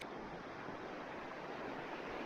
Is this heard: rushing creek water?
yes